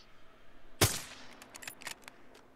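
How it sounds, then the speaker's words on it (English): Video game gunfire shooting out a window: one sharp, loud close shot followed by a scatter of lighter cracks and clinks, with no talking. "Takes two shots to break windows."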